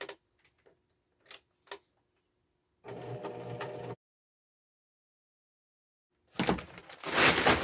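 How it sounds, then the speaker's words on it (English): A sewing machine stitching a round slip-on cover panel, running in short bursts separated by silence, with one steady stretch of rapid mechanical whirring and a louder final run, close by with no talk. "I'm gonna stitch down the side of the panel and then I finish off stitching it to the circle."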